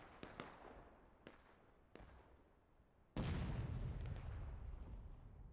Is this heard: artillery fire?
yes